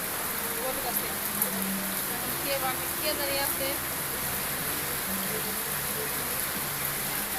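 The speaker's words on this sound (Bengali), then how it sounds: "টিনের চালে যে বৃষ্টির ঝিমঝিম শব্দটা" Light rain patters on a tin roof in a steady, even hiss with faint drips, while a voice speaks briefly over it.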